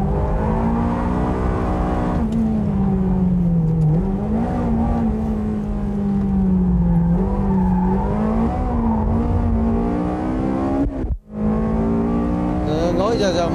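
A Ferrari 360 engine drones loudly and continuously while driving, its pitch rising and falling as revs change, with a brief sharp dip near the end before the tone resumes.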